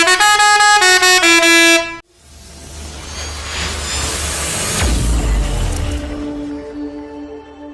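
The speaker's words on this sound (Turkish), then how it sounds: "Bir havalı korna istiyorum." A burst of rapid musical horn notes cuts off abruptly, followed by a rushing roar and rumble, then a sustained low horn tone rising toward the end.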